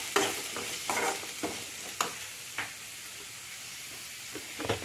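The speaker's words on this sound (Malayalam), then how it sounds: "എന്നിട്ട് അരിഞ്ഞു വെച്ചിരിക്കുന്ന പയറും ചീനിച്ചട്ടിയിലേക്ക് ഇട്ട് കൊടുക്കാം. എന്നിട്ട് നന്നായിട്ട് മിക്സ് ചെയ്യുക." Chopped green beans stirred in a frying pan for a Kerala mezhukkupuratti, with a soft sizzle and a series of sharp spoon scrapes and clatters at an uneven rhythm, close and without talk.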